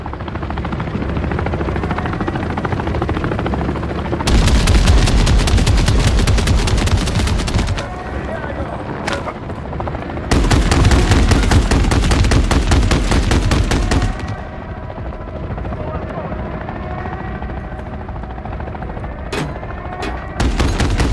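Attack helicopter in the Call of Duty Modern Warfare 3 campaign, its loud rotor roar running throughout, with two bursts of heavy automatic gunfire and explosive impacts surging over the steady chopping drone.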